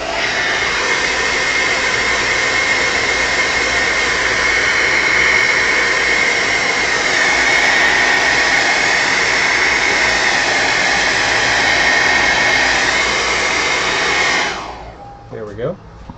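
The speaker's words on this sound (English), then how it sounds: "Another trick is also to use a blow dryer." A blow dryer roars loud and steady at close range while drying fresh spray paint on a stencil artwork, then cuts off abruptly near the end, leaving brief quiet handling noise.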